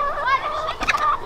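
Backyard chicken gives a loud, close, warbling call with rising and falling tones that ends in a short burst, alone with no talk.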